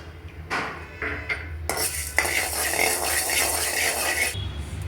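Black gram lentils dry-roasting in a metal pan while a spoon stirs them, giving a continuous busy scraping and clinking with steady rattling of the dal against the pan, close and fairly loud, no talking.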